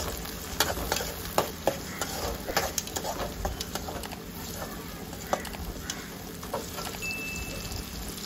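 Curry leaves and small tomatoes frying with soya chunks in a pan, a steady close sizzle broken by occasional stirring knocks and soft pops.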